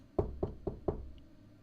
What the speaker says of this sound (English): was soon knocking at Charlie's front door